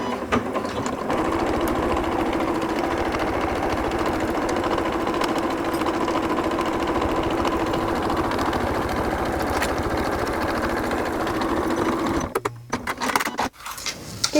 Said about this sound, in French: Je pointe mon aiguille et c'est parti pour la première couture.